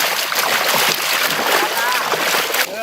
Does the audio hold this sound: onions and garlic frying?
no